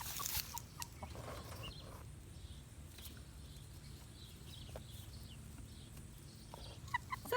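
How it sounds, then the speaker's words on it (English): Wyandotte, Orpington and Barnevelder cockerels in a lightweight chicken tractor make faint, scattered clucks and rustles against a quiet outdoor background, with a few sharper sounds at the start and end. "those two are blue-laced red Wyandotte cockerels. That's a Jubilee English Orpington, and the big guy in the back is a double-laced Barnevelder"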